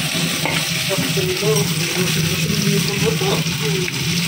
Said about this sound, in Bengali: এগুলো মাথা ভাজা হচ্ছে